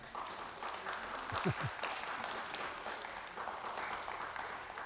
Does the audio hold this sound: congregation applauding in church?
yes